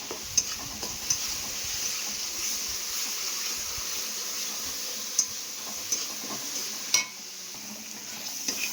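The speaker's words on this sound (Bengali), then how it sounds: "এই মাছটা একটু গরম করে নিচ্ছি" Fish being reheated in a pan with a little chili powder gives a steady, low sizzle with a few soft clinks and stirring scrapes, heard alone without talk.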